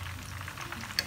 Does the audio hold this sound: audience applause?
no